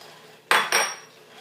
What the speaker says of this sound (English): So I'm going to whisk constantly here.